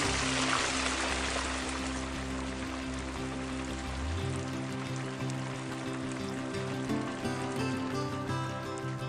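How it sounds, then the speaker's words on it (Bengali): Fish fry in white cooking oil in a wok, a dense, constant sizzle and crackle close by, with a low hum dropping away partway through while the frying continues alone. "এবার মাছগুলোকে একে একে তেলে ছেড়ে এপিট ওপিট লাল করে ভেজে নিচ্ছি"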